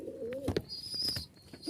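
Pigeons of fancy breeds coo close by in soft, throaty phrases, with a faint high tone and light chirps in the background.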